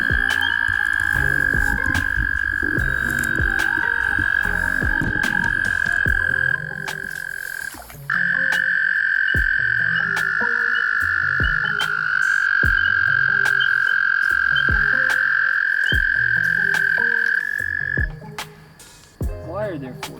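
Eastern gray tree frogs give a loud, sustained trilling croak at close range, with another frog calling over it. Scattered clicks and knocks run underneath.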